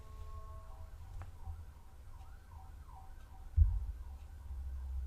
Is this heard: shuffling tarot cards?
no